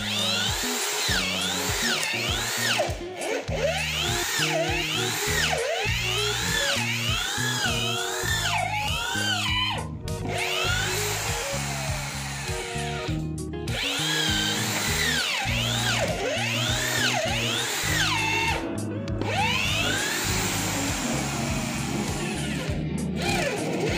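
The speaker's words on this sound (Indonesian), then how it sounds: "Saya mengebor pada kecepatan maksimal." A Hasston electric drill whines at maximum speed, boring into 15 cm thick mahogany with repeated straining, stuttering pitch dips and brief pauses, close and loud throughout.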